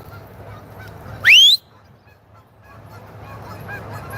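A single loud goose honk rings out near the harbor in Two Harbors, Minnesota, as a dog chases the flock, followed by quieter ambient noise and faint distant calls.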